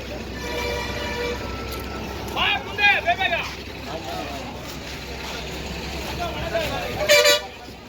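Buses at the busy Chitradurga bus stand in Karnataka, with engine rumble throughout, two short bus horn toots in the middle and at the end, and someone talking over the noise.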